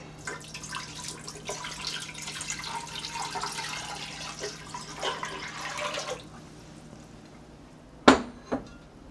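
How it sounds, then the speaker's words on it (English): Eight cups of water pour into a cooking pot in a steady splashing rush for about six seconds, then it stops, followed by two sharp metallic clinks. "So I have got 8 cups of water. That's going to go right into my pot."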